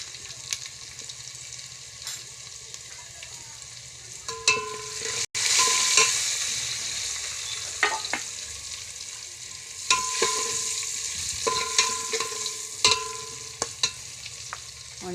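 A tempering of mustard seeds, cumin and turmeric with coarsely crushed spices hits hot oil in a sudden loud burst of sizzling partway through, after quieter clinking. The hiss then continues with intermittent stirring knocks, close up and without speech.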